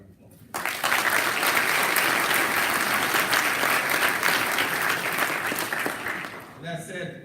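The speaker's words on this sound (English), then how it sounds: "Give yourself a round of applause." A school sports assembly audience bursts into loud applause after a brief quiet start, with sustained clapping, some cheering and voices, then tapering off at the end.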